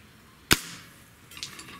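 A single sharp shot from a Hatsan Mod 135 QE Vortex .30 caliber breakbarrel air rifle, one close crack followed by a short decay and faint rustling afterward.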